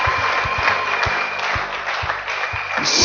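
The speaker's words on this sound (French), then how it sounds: "Applaudissons fort le Seigneur." A church congregation applauding together, a dense, continuous wash of clapping with regular low thumps keeping a beat underneath, steady and fairly loud throughout.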